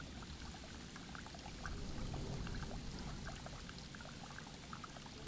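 In the horror video game Lazare, set aboard an abandoned ship, water pours and trickles steadily in a dark space, a soft, continuous splashing patter with faint droplets, heard alone without talk.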